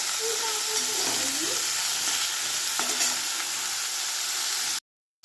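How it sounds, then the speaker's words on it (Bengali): Potatoes frying in a pan give a loud, dense, steady sizzle with a few stirring scrapes, heard close up before it cuts off abruptly near the end. "এর জন্য আমি আলু ভাজাটা করে নিচ্ছি"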